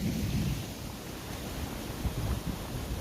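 Low, rumbling thunder rolls in the distance over a steady wash of rain and wind, without any voices.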